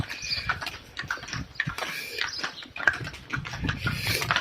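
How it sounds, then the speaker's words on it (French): Donkeys walk along a road down into a village on the GR 70 Stevenson trail, their hooves clip-clopping in a close, uneven, continuous patter. "On va rentrer avec les ânes."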